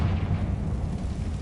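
Confringo spell explosion in Hogwarts Legacy, a short heavy low rumbling blast that stays loud and dense for its brief duration.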